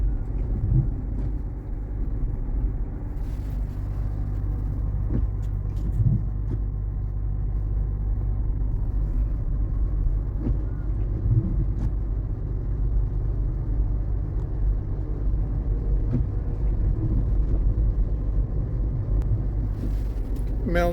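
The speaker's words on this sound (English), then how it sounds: "We can watch the Waymo turning its wheels," A Waymo self-driving car moving through rainy streets, a steady close road rumble with tyre and engine noise running throughout, occasional faint knocks, no clear talk over it.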